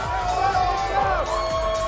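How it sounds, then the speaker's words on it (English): MIBR fans cheering in an esports arena crowd during a G2 versus MIBR Valorant match, a steady loud roar of voices with commentary spoken over it throughout. "the MIBR fans in the crowd are going crazy right now"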